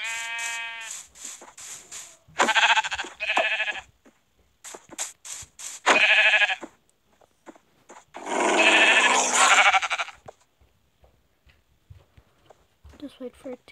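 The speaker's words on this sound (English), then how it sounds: "Wait, there's another sheep." Sheep bleating in a video game, several short bleats at moderate loudness, with a person talking over and between the calls.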